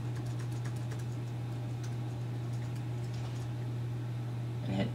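Fingers tap quickly on a computer keyboard while test email and credit card details are entered, the light clicks close and fairly faint over a steady electrical hum, ending in a brief louder burst of keystrokes.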